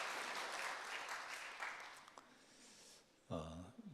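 Church congregation applauding the choir, a steady wash of moderate clapping that thins out and fades, followed by a brief voiced sound at the end.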